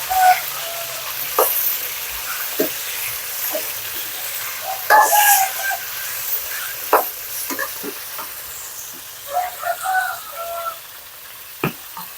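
Steady sizzling of pork frying in an electric pan, with scattered pops, crackles and occasional clinks of a utensil stirring.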